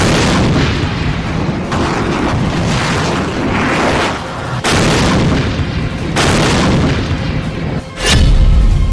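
A HIMARS multiple rocket launcher fires in the Kherson area of Ukraine. Loud, rumbling blasts and roaring bursts follow one another, with sharp onsets near the middle and a heavy boom at the end, and no voices.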